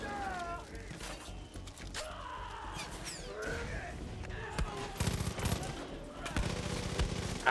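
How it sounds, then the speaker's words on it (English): Gunfire in the Far Cry 5 video game, sharp scattered shots and bursts of rapid fire that grow denser toward the end, mixed with mechanical clicks, creaks and game effects. "Where are you guys shooting me from?"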